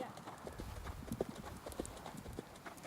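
A ridden horse canters during a riding lesson, its hoofbeats falling in a steady rolling rhythm, fairly faint and close, with a few brief louder strikes.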